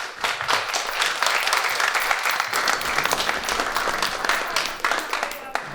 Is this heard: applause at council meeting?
yes